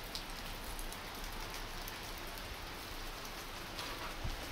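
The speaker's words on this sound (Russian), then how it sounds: "Вроде погода прояснялась, но все-таки дождь пошел." Steady rain falls outdoors on a cold, autumn-like day, a dense, even hiss of drops hitting surfaces with no voices and only a brief heavier patter near the end.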